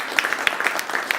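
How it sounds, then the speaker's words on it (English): A short burst of applause for a volunteer at a body language show, dense clapping from a live audience, moderately loud with scattered sharper claps and no talk over it. "round of applause for Scott"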